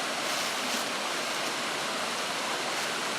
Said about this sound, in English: The falls is running a little harder.